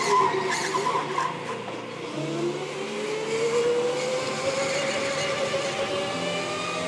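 Go-karts race around the K1 Speed indoor circuit in Colorado, with loud engine whine rising in pitch as a kart accelerates and tires squeal through a corner, all close and continuous.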